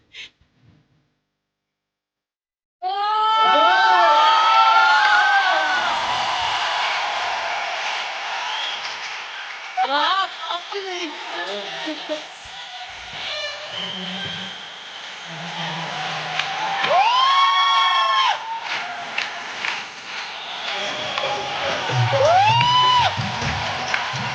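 A studio audience on The Kapil Sharma Show breaks into loud, sustained applause and cheering after a dance, with whoops and shouts rising over the dense clapping after a brief quiet start.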